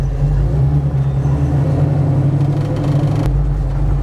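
Deep, heavy rumble of an LS-swapped Chevrolet Nova on a test drive, a steady low engine drone with a shift in pitch partway through, close and loud with no talking.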